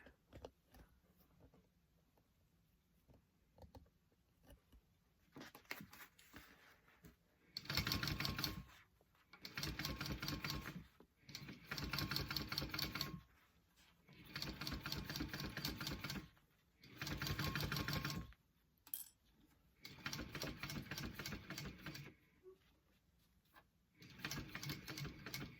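A sewing machine stitches a tote bag in about six short, steady bursts of rapid mechanical whirring, each separated by brief pauses as the fabric is guided along.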